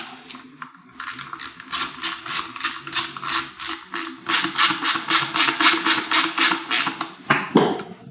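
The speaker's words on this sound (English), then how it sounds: "Reinstall the Torx screw." Rapid, even ratchet clicks tighten a Torx screw on a KTM/Husky headlight, a loud close burst of ratcheting that pauses once and then resumes steadily, with no talk.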